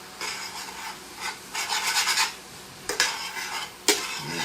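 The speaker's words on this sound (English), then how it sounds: "I literally want to scrape the bottom of that pan" A spoon or spatula scrapes and stirs the bottom of a pan, lifting browned bits into a sizzling Marsala wine sauce for creamy chicken Marsala. The rasping strokes are close and come in uneven bursts, with no voices.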